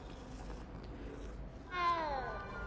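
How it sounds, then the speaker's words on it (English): A cat meows once in the Hogwarts Legacy video game, a short rising and falling cry heard clearly against a steady low background ambience. "A kitty cat."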